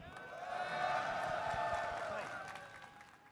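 A large crowd at the Evo fighting game tournament showcase stage applauds and cheers in a sustained roar that swells and then gradually fades, heard from some distance.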